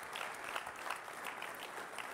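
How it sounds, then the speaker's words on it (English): Brief, steady applause from a conference audience at a PTC user community gathering, moderately distant and continuous with no talking. "give them a round of applause"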